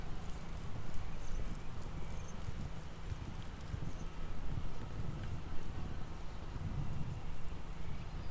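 Dressage horse cantering through half passes in an arena, its steady rhythmic hoofbeats soft and moderately close under a constant wind-like background hiss, with no voices present.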